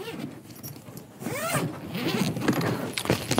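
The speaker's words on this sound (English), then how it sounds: "Then a double zipper." A double zipper on a Neewer lighting roller bag being pulled open, a close, raspy ripping run that surges and stops in short strokes, with no talk over it.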